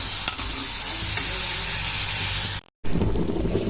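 Garlic fries in a pan with a loud, steady sizzle and crackle, briefly cut off by a moment of silence before the frying hiss resumes close up, with no talking.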